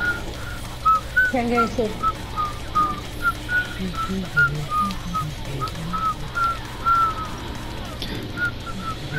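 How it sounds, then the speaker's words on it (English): A person whistles a repeated short tune in rapid chirpy notes during an online multiplayer match, fairly close and steady under ongoing team chatter and game noise. "Who's whistling?"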